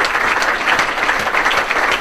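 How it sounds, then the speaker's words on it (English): An audience at a county football association community awards ceremony applauds regional winners, a dense, loud, continuous wash of clapping throughout. "So if we can have a round of applause for all 3 of our regional winners."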